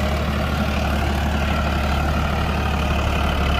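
Two 55 HP tractor engines, a Farmtrac 60 and a John Deere, run side by side in a steady, loud low throbbing drone that continues unbroken.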